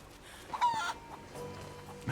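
Chickens cluck in short bursts in the video game Rise of the Tomb Raider during a chicken-catching minigame, clear but moderately quiet, with no speech over them.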